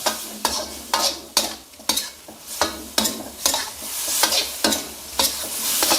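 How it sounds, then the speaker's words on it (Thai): Pork and a handful of holy basil leaves stir-fried fast over high heat, with loud repeated scrapes of a spatula in a wok in a steady rhythm over a continuous sizzle, no voices. "พอเข้ากันดีแล้วใส่ใบกะเพราลงไปหนึ่งกำมือ ผัดไวๆได้เลยนะ ใช้ไฟแรงได้นะครับ"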